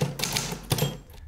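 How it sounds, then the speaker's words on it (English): Old mechanical typewriter being typed on, loud and close: a quick run of sharp key strikes with a couple of heavier clacks, ending abruptly. "I was just using this old typewriter to demonstrate how lovely and noisy it is."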